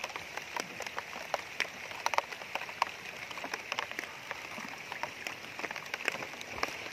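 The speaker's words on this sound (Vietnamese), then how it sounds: "Mưa lớn quá chừng" Heavy rain pours down outdoors in rural Vietnam while snake traps are checked, a dense, steady hiss of drops pattering on surfaces, even and continuous at moderate distance.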